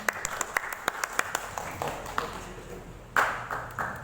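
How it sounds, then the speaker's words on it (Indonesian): A school audience at a student council candidate debate claps: a run of sharp, separate hand claps builds into a short burst of applause that fades, then swells again briefly near the end. "Beri tepuk tangannya."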